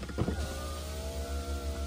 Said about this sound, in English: I'm rolling down the window so you'll hear